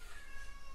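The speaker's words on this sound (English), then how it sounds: "Oh, little cat, stop your meowing" A cat meows in a video game, a single drawn-out tonal call lasting under a second, close and fairly loud over a steady low background hum.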